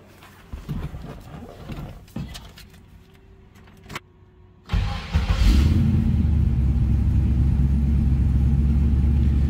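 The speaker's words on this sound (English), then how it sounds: "Starts easily. Nice throaty exhaust" Keys jingle and faint movement, then a 1967 Pontiac Firebird coupe's engine cranks and fires up easily, settling into a loud, steady, throaty idle rumble through a newer exhaust.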